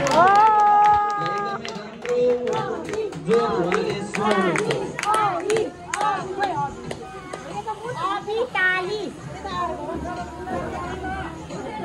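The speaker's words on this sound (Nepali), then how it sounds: "अब उसलाई हामीले सबैजनाले चाहिँ ताली बजाएर स्वागत गरौँ।" Group clapping at an outdoor family picnic in Karyabinayak, Lalitpur, with scattered claps mixed under loud voices and crowd chatter.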